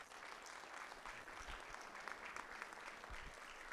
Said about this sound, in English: So please, a round of applause for Mayor Sid.